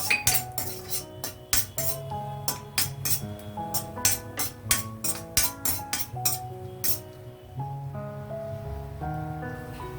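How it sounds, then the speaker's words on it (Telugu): Fried cashews are lifted out of a pan with a metal spoon, making a quick run of ringing clinks and scrapes against the cookware that slows to a few scattered taps near the end. "జీడిపప్పు వేగిపోయింది, తీసేసుకుంటున్నాను నేను పక్కకి."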